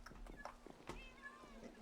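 Cats meow in a video game, a few short, clear mews and a drawn-out plaintive meow heard between and under chatting voices.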